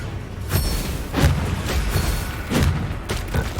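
Repeated magical blast effects from the Confringo fire spell in Hogwarts Legacy on PS5, loud booming thumps recurring every second or so over a steady background of combat noise, no speech.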